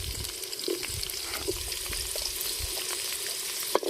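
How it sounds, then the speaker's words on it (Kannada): Cloves, garlic and onion fry in oil in a pot over a village wood-fired stove, giving a soft continuous sizzle with a few faint stirring clicks and a small clatter near the end. "ಇದೆಲ್ಲ ಸ್ವಲ್ಪ ಹುರ್ಕೋಬೇಕು ಎಣ್ಣೆಲಿ."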